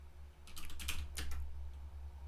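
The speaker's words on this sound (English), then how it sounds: "I come back to my terminal, I type in my sudo password." Quick, light keystrokes on a computer keyboard as a sudo password is entered in a terminal, a short run of clicks with a brief pause in the middle, close and fairly quiet.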